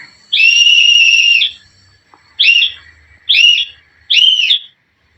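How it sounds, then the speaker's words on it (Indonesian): A whistle blown close and loud, signalling the Morse code letter B: one long blast followed by three short ones, with brief silences between. "Kita akan contohkan kembali melalui suara peluit ini"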